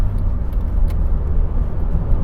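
A car engine builds speed on a 70 mph dual carriageway, a steady, loud low rumble with road and tyre noise filling the whole stretch, no voices over it.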